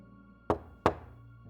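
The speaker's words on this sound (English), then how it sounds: "she knocked on the door" Two sharp knocks sound on a school toilet door, evenly spaced about a third of a second apart, crisp and fairly close against a quiet background.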